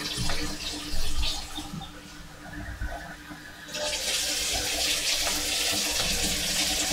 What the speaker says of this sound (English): we get some fairly hot tap water.